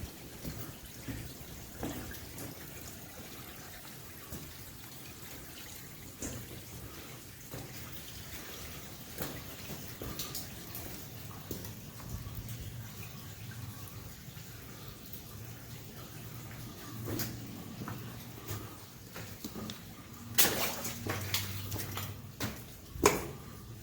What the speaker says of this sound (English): Water coming through here.